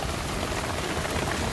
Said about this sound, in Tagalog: Padi, ulan padi.